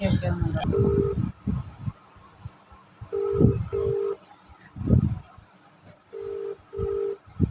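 Outgoing call being placed from a phone: a steady ringback tone beeps in paired pulses, repeating about every three seconds, while a person talks and laughs in bursts between the tones.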